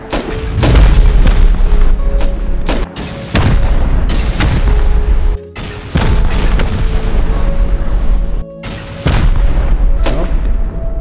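Rocket explosions in the video game Rust boom one after another, loud heavy blasts repeating every second or two with brief gaps between bursts, and no speech over them.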